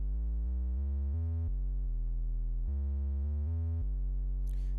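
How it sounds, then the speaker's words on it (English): A synthesized triangle-wave tone built in Reaktor plays a stepping sequence of sustained notes at different pitches, clean and buzzy-bright, with no other sounds. "So now we got a triangle wave."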